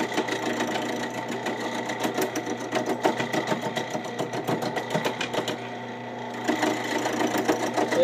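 A wood lathe spins an olive wood slimline pen blank while a chisel rounds it, giving a steady motor whir with fast, rhythmic ticking chatter from the bouncing cut, close and fairly loud.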